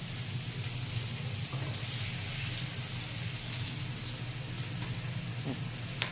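Sausage patty smashed flat in a hot pan, like a smash burger, sizzling and crackling steadily and fairly loudly throughout with no talk over it.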